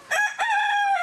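A rooster on a mountain animal farm crows once, loud and close, a bright drawn-out call with a short rising start that holds steady before trailing off, heard alone.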